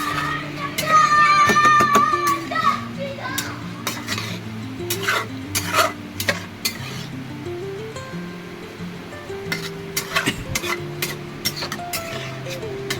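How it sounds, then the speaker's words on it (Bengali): Chicken for biryani fries lightly in a pan with a soft, steady sizzle under repeated stirring and utensil clinks against the pan, close up, with some background music tones and no talk. "যেহেতু চিকেনটাকে একটু ফ্রাই করে নেব"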